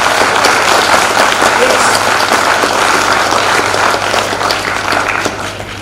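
A large audience applauds loudly and continuously, a thick wash of clapping that holds steady and eases off slightly near the end, with no voices standing out.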